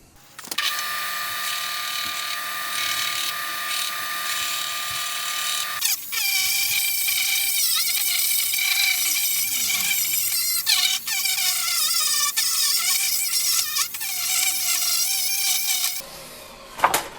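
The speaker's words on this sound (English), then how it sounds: "gently smooth it all out and make it a bit more natural looking using the Dremel" Dremel rotary tool smoothing and shaping a large apple box, a steady high-pitched whine that runs continuously, shifting in pitch at about six seconds as the load changes, then cutting off near the end.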